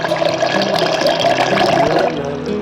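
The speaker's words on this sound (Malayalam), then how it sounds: "ഇനി ഇതിലേക്ക് നമുക്ക് വെള്ളം ചേർത്ത് കൊടുക്കാം." Water pours steadily into a tumbler holding a blueberry kulukki drink with honey, a close, continuous splashing stream that tapers off at the end.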